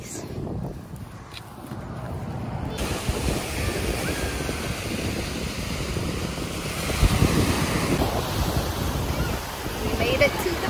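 Ocean surf rolls onto a beach in a continuous broadband wash, with heavy wind buffeting the microphone and a few swells rising louder toward the end.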